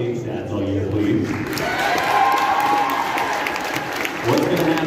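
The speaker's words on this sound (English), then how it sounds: "let's give a round of applause for our stage dads all year" Sustained applause from a crowd at a high school show choir cabaret, steady and fairly loud throughout, with some cheering mixed in.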